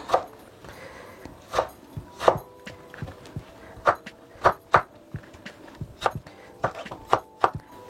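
A knife chops through tomatoes and green chillies on a cutting board in a home kitchen while sambar is being made, giving about a dozen crisp, irregular thuds spaced close together, with no talk over them.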